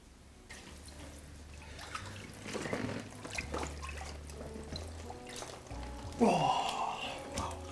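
Water sloshes and pours as a person lowers into an ice bath, with soft splashes building to a louder surge of moving water near the end, close and fairly quiet.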